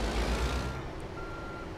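Steady reversing beeps from a backing truck in American Truck Simulator sound over a low engine rumble, close and moderately loud, with no talk.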